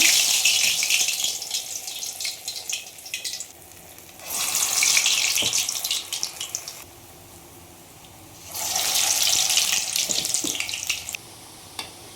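Vada frying in hot oil gives a steady, bright sizzle that swells into two loud, crackling surges, then settles back to a softer hiss.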